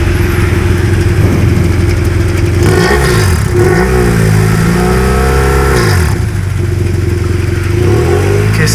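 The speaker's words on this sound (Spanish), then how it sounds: "Acelera la caballota, acelérala." A motorcycle engine revs hard again and again after crossing a flood in Honduras, pitch climbing and falling with each twist of the throttle, loud and close throughout.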